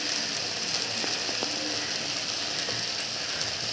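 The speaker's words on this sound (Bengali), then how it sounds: "মশলা দেওয়ার পর এবার মশলাটাকে আমি ভালো করে কষিয়ে নেব।" Spices with turmeric sizzle steadily in a pan while being cooked down for a potato and eggplant curry, a soft even fry with a few faint scrapes of stirring, no voices.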